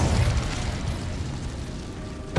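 A fire spell cast in Hogwarts Legacy, a loud roaring burst of flame that starts strong and rumbles steadily for a couple of seconds before a sharp pop at the end.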